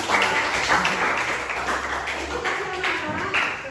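Students in a classroom clap together in a short burst of uneven hand claps, mixed with nearby voices and small taps.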